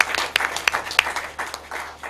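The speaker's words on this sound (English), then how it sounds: "Please, a round of applause for MINILS and FAS." Brief burst of audience clapping at a curriculum development workshop, individual sharp claps standing out over a scattered room of hands, fairly close and short-lived.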